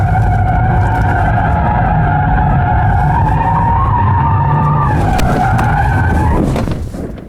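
A 2020 Genesis G70 3.3T sedan with traction control switched off, its tires squealing in a loud, sustained, wavering howl over engine roar, fading out at the end.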